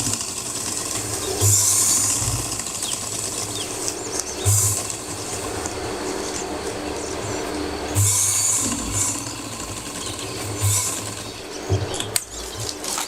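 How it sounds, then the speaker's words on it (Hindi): A sewing machine runs a straight practice seam in bursts of steady rapid stitching, separated by short pauses and light clicks, loud and close with no talking. "आपने अपनी सिलाई बिल्कुल सीधी करने की कोशिश करनी है"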